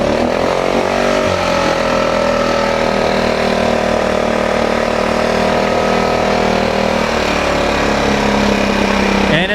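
A small dinghy outboard motor idles too high, a fast, steady, loud buzzing drone that holds constant with a slight pitch dip early on.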